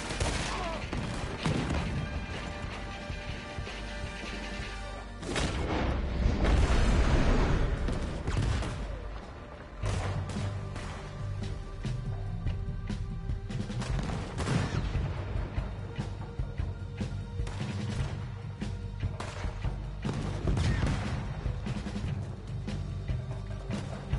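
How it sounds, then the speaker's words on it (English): Gunfire and cannon blasts in the Western video game Red Dead Redemption 2, a dense, loud barrage of overlapping shots and booms that continues throughout, heaviest in one stretch. "He's shooting! We have to take him down!"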